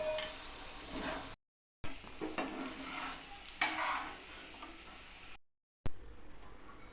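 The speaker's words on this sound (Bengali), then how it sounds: "আলুগুলো ভালো করে লাল করে ভাজা হয়ে গেছে আলুগুলোকে তুলে নিচ্ছি" Potatoes frying in hot oil in a pan, a steady close sizzle broken by two brief silent gaps, with no talking.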